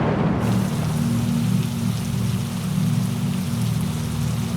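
Heavy stormy rain pours steadily and loudly, a dense unbroken wash of downpour with a low rumbling undertone throughout.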